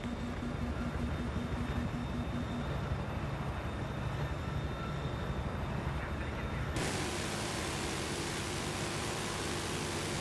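A Battlefield 3 helicopter gives off a steady, dense roar that fills the whole clip and swells abruptly louder and brighter about two-thirds of the way through, as if it had come closer.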